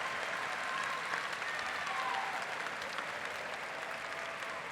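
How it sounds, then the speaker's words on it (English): Graduation audience at Arlington High School applauds steadily and loudly, a dense wash of many hands clapping that holds for the whole stretch without a break. "Let's give them a round of applause."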